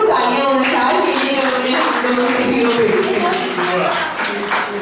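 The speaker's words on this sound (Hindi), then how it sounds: "भरपूर तालियां होना चाहिए।" An audience at an Urdu mushaira poetry gathering in Hyderabad claps steadily and densely for several seconds, with a voice talking over the applause.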